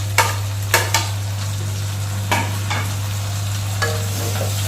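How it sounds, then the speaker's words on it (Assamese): Sliced carrots and other vegetables sizzle steadily in hot oil for egg chowmein, with a few sharp spatula stirs and scrapes knocking against the pan at intervals. "এইখিনি মই 2 মিনিটমান ফ্ৰাই কৰি দিম"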